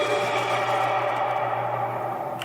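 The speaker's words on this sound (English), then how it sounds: "I have a vocal riser that I made out of the group vocal sounds" Rising vocal riser built from layered group voices for Styanax's fourth ability in a video game, a dense, sustained swell of blended voices with reverberant echo that keeps steady for a couple of seconds and fades slightly at the end.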